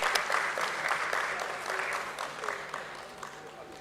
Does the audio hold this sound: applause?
yes